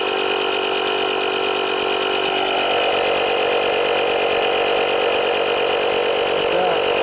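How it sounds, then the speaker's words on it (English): Portable JF.EGWO 6000A jump starter with built-in air compressor pump running, a steady buzzing motor whine with constant loudness throughout, close up and uninterrupted. "Air pump."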